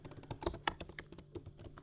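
Keys tapped on an M1 Apple MacBook Pro keyboard, a quick irregular run of light close clicks for a short word, with no voices.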